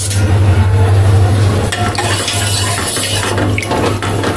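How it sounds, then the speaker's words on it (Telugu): Flax seeds simmer in water on the stove until they turn to gel, producing close bubbling and sizzling with a steady low hum beneath, and occasional stirring clinks. "మొత్తం మనకి బాగా జెల్లు లాగా అయ్యే వరకు బాయిల్ చేసుకోవాలి బాగా"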